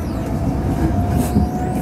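A tram in Germany rolls along with a steady, loud rumble and a faint whine, continuous cabin noise with no talking.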